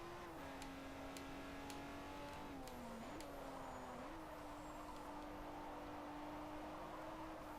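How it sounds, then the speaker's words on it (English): A car engine revs and shifts in the racing video game High Gear, the all-wheel-drive purple car's steady drone dropping in pitch and rising again through gear changes, with faint hissing transients from its blow-off valve. "That blow-off valve sound is so cute."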